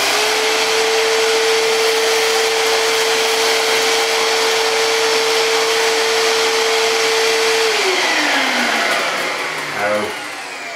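A bagged Hoover Microspace SC110 cylinder vacuum cleaner runs at a steady, loud whine over a floor, holding one pitch for several seconds before winding down as the motor switches off near the end.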